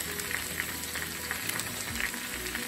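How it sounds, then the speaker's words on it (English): A steak, potato and bacon casserole is stirred in a hot pan, bringing steady sizzling and frying with soft, irregular scraping strokes up close. "I'm gonna stir that up again"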